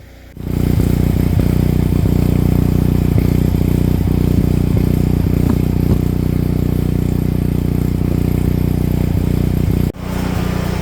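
A generator powering a cabin starts up and runs with a loud, steady low mechanical drone and faint rattling clicks, holding for about nine seconds before briefly cutting out and resuming.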